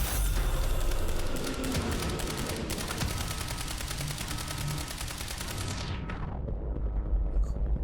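Rapid, dense gunfire rattles continuously in the Quantum Break video game, loud machine-gun bursts layered over booming impacts before the shooting cuts off abruptly near the end, leaving a low rumble.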